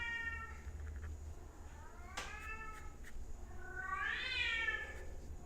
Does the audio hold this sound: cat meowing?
yes